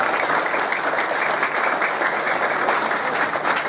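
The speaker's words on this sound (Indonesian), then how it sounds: "Tepuk tangan untuk Indonesia." A crowd claps loudly and continuously at a religious talk by KH Ubaidillah in Indonesia, a thick, even wash of applause close by with no pauses.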